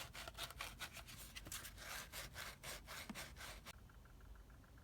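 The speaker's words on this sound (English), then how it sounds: "So now we finished sanding it" A small RC truck fuel tank for an HPI Maverick Blackout MT is sanded by hand with 240 grit sandpaper, a quiet, rapid back-and-forth rasping of about a dozen strokes that stops near the end.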